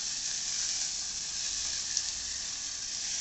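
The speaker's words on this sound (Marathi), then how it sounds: "टोमॅटो बारीक चिरलेला टाकायचा आहे. मिक्स करून घ्यायचे छान." Finely chopped tomato going into a frying masala for a whole masoor dal dish, giving a steady, even hiss of sizzling at close range, unbroken and with no voices.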